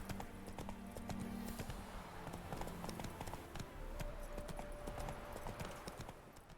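Roach, a horse in The Witcher 3: Hearts of Stone, gallops with a steady run of close, repeated hoof clip-clops over ambient game sound, with a brief whinny and faint music behind.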